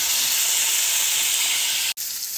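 Frozen ground meat sizzling hard in a hot pan, a loud, steady close-up hiss that holds throughout, broken by one sharp click near the end.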